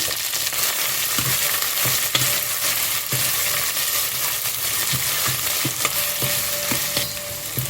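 Crushed onion and garlic frying in a pan with green chilli and curry leaves for a fish curry, making a steady loud sizzle punctuated by regular spoon taps and stirring scrapes close by.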